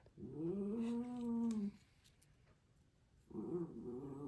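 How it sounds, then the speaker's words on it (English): A very old small dog gives two drawn-out whining, moaning vocalizations, the first long and the second shorter after a pause, close and moderately loud. "That's my little doggy. He's very, very old."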